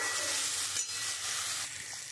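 Cumin, turmeric and chilli powder spices sautéing in a pan give a steady, close hiss of frying that runs without a break, with a short dip partway through and no voices.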